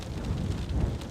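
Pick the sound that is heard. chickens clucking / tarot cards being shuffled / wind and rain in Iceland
wind and rain in Iceland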